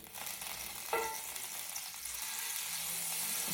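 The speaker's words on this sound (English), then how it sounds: "that's not supposed to be spattering. There isn't any moisture in this pan" Food spatters and sizzles in a dry frying pan, a faint continuous crackling hiss with a brief sharper pop near the start and soft clatter underneath.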